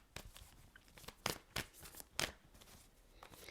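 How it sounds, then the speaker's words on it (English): Tarot cards being shuffled by hand, quiet and close, with a handful of sharp riffling snaps and soft papery rustles scattered across a few seconds. "But let's shuffle."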